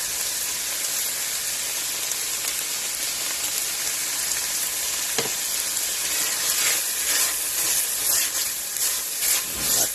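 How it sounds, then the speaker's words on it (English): Onions and garlic frying in a pan after lamb was browned in it, a close, continuous hissing sizzle with faint crackles and a soft stir or two, steady throughout and without speech. "with our onions cooking up nicely"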